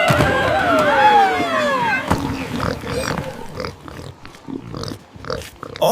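Cartoon pigs oink, given by a voice imitating the animal: a few nasal, pitch-sliding oinks up front, then a busy mix of thumps and short cartoon sounds.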